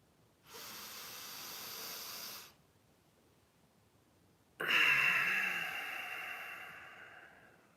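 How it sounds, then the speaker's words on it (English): Two deep, slow breaths during a guided relaxation, one long airy inhale followed after a pause by a stronger, fading exhale, close and alone with no talking. "Full breath in, full breath out."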